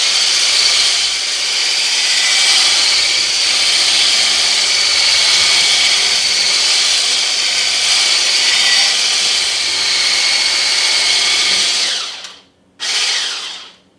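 Electric hand mixer whisking dalgona whipped coffee on high speed, a loud steady whirring drone lasting about twelve seconds before it cuts off, then a brief restart and stop.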